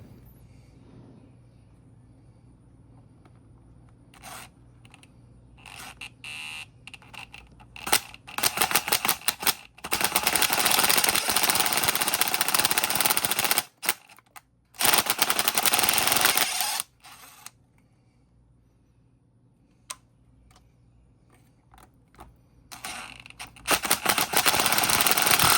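A power drill with a greased bit cuts out damaged spark plug threads in an engine cylinder head, running in loud bursts of grinding and chattering separated by quiet pauses, with short stop-start pulses.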